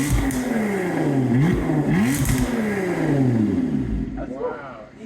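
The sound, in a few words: Lotus Emira exhaust revving in track mode after cat delete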